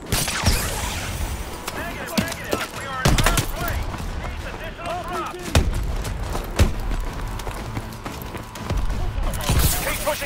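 Strafing-run gunfire in the Call of Duty: Advanced Warfare video game, with sharp bursts of shots and heavy impacts recurring over a dense, loud battle din, with voices in the mix.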